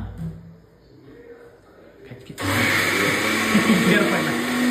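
A mixer grinder grinding masala paste for a paneer dish starts up after a few seconds of background voices, then runs as a loud, steady whirring roar to the end.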